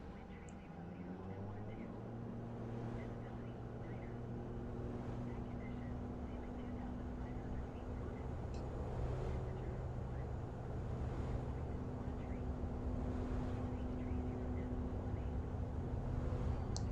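Aircraft engines in a flight simulator game roll into takeoff on an Eastern Airways Aberdeen to Norwich flight, a steady droning roar that slowly builds. Wind-like rushing noise runs throughout.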